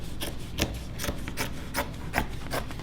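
Scissors cut through jean fabric to shape the front panel of a purse, giving a repeated rough rasping crunch with about seven sharp snips at an even pace, close and clear with no talking.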